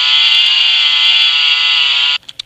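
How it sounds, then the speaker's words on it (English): A Nerf Zombiestrike foam chainsaw attachment plays a loud, steady electronic buzzing chainsaw sound effect for about two seconds before cutting off abruptly, followed by a couple of small plastic clicks. "it is supposed to make chainsaw noises"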